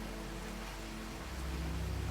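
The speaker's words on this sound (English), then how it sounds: "It started raining" Steady rain falls in the Minecraft video game on a frozen lake map, a constant even hiss with a low rumble underneath and no voices.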